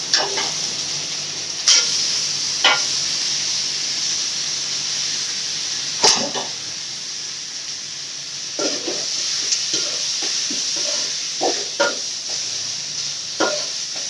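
Cleaned quail pieces sizzle and fry steadily in a hot pan while being stirred, with scattered clicks and scrapes of the spoon against the pan over the constant hiss.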